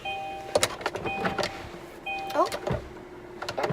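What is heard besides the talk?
car roof opening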